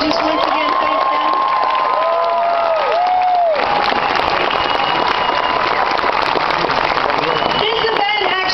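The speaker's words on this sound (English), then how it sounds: "give them a round of applause" A large crowd at a speaking event applauds and cheers loudly and continuously, with whistles and shouts rising over the clapping.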